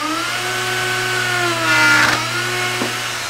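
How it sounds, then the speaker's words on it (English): A wood router fitted with a bottom bearing bit cuts through a wood edge, its steady high whine with strong harmonics running close and loud for the whole stretch, swelling briefly as the bit bites. "I'm just going to go ahead and route"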